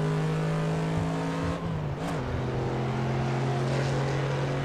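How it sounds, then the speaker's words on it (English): In an Assetto Corsa racing game replay, a car's engine drones with a steady, bright, treble-heavy exhaust note. The pitch bends sharply as the car sweeps past about two seconds in, then the drone settles again. "the exhaust note just seems to have far too much treble in it. Take a listen now. As the car goes past, listen to the replay one."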